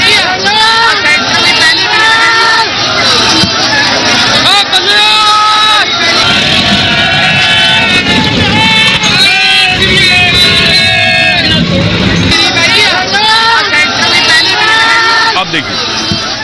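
A crowd of protesting farmers with tractors at a roadside barricade on a bridge: loud, dense shouting and overlapping voices fill the whole stretch, with a continuous low rumble of engines beneath.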